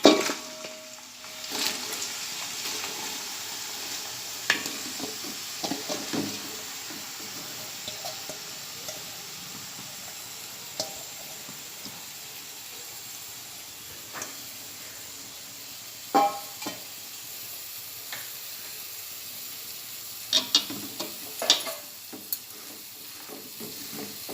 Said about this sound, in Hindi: अब मैं इसे सुर्ख होने तक, सुनहरी होने तक इस प्याज को तलूँगी।